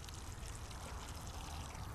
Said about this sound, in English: before we sow the seeds, what we need to do is we need to water in that trough.